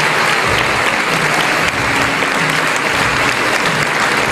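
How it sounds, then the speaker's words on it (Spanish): Dense, sustained applause fills a conference hall in Chaco as an audience welcomes Alejandra Stamateas, loud and even throughout without a break. "fuerte el aplauso para la señora Alejandra Camateras"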